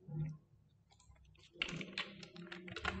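Quick bursts of clicking keys on a computer keyboard sound close and quiet, following a brief soft murmur at the start.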